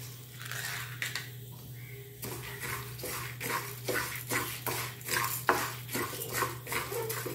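Urad dal and rice dry-roasting together in a pan, stirred with a utensil that gives a steady run of scraping, rattling strokes against the pan over a constant low hum, with no voices.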